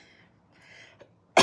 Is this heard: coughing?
yes